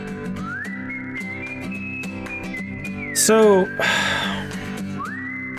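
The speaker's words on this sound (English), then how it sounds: "It's not instrumental, he's whistling" In a horror video game, a man whistles a slow, steady tune in long sustained notes over a rhythmic soundtrack with percussive hits, broken midway by a sharp burst of noise and a brief voice.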